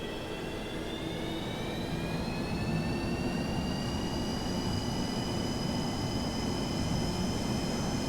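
Engines of a Boeing 737-200 in a flight simulator spool up steadily, a loud continuous jet roar with a whining tone that rises in pitch as throttle increases, with no talk.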